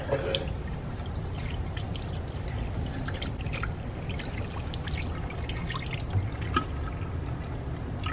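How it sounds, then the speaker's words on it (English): Water poured into a container trickles and drips out through plastic straws during a forces lab demonstration, a steady splashing trickle with scattered drips at close range and no voices. "I'll pour water into it."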